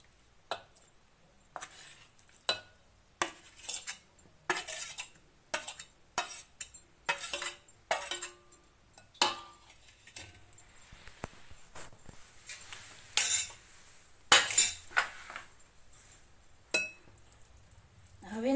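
A spoon mixes sesame, sugar and mawa for laddu in a bowl. It gives a long run of sharp metallic clinks and scrapes in an uneven rhythm, close and distinct, with quiet stretches between bursts.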